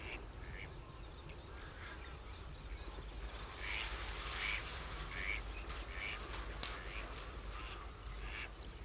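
Faint honking and quacking calls from a large flock of geese at Villafáfila, Spain, overlap in the distance beneath a steady low rumble, with one brief sharp click.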